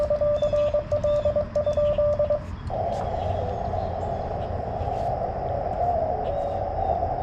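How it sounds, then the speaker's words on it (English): Static crashes and hiss on a Yaesu FT-891 ham radio, a loud continuous wash of noise with a steady tone at first that gives way to broader crackling hiss. "A lot of static crashes this morning."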